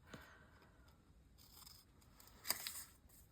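Scissors snip through paper in a mixed media art journal, a few quiet, scattered cuts with a sharper crisp snip near the end, close and faint with no talking.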